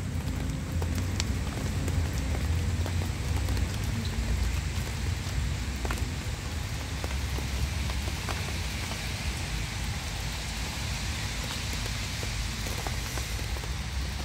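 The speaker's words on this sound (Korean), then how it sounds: "경남에도 비가 지금 많이 옵니다." Heavy rain falls steadily as a dense, even hiss and patter on surfaces, close and constant throughout with no voices.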